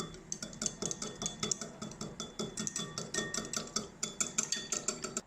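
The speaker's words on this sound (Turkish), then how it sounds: "Terbiyesi için bir adet yumurta sarısının üzerine bir tane suyunu sıktığım limon suyunu ekliyorum. Ve köpük köpük olana kadar güzel bir şekilde çırpıyorum" An egg yolk and lemon juice are whisked briskly in a bowl, fast rapid clinks of the whisk against the sides in a steady, even rhythm, close and clear with no talk.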